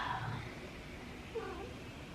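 A pet cat lets out a short meow over low room hum in a quiet indoor studio, followed by a brief fainter cry.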